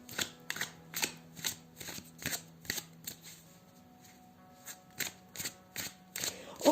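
Tarot cards being shuffled by hand in a run of quick, crisp riffling bursts, fairly close and steady, with a low hum underneath and no talking.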